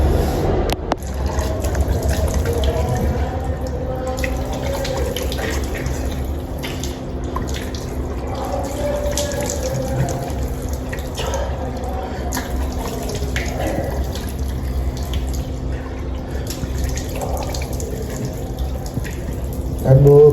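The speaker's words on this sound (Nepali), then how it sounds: "अब पानी पनि कति सानो आयो यत्तिकै पानी पनि सदा हुँदैन" A thin, weak stream of cold tap water runs steadily while someone washes their face, a continuous close splashing wash with voices talking now and then over it.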